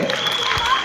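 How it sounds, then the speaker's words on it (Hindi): A group of children claps at a public event in Okhla. The brief, ragged clapping sits close and fairly loud, with voices mixed in. "तालियां बच्चों, तालियां।"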